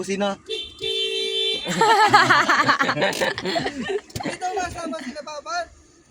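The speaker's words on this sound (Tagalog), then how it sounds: "Businahan mo si Jay." A car horn toots a few times amid laughter and people talking, the honks sharp and close.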